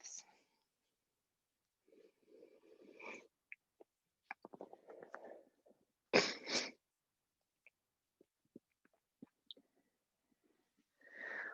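Breathy coughs and throat clearing during a morning yoga flow, scattered in short bursts with soft breaths, one louder cough in the middle and quiet gaps between.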